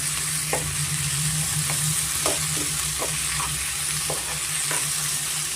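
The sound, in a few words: tomatoes frying and being stirred in oil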